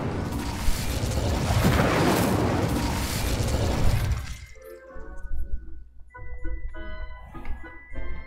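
An Incendio fire spell cast in a video game: a loud, sustained burst of crackling, shattering fire for about four seconds, then dying away into quieter scattered tinkling and clicking effects.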